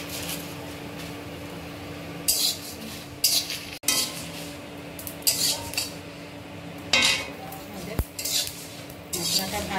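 Dry chillies and cumin seeds stirred in a hot dry pan for a roasted spice mix, giving intermittent metallic scrapes and clinks of a spatula against the pan over a steady low background hum, with no talking.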